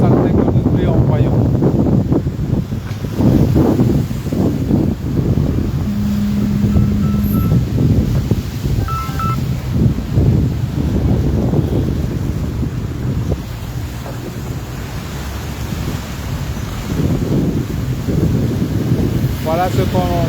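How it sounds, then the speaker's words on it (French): Sea waves washing onto a seafront shore under strong wind, a continuous loud roar of surf and gusting wind buffeting the microphone throughout, with no pauses. "Là, les vagues se sont calmées un peu."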